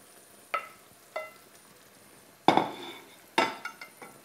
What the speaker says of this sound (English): And carefully fold in the pieces into the curry sauce.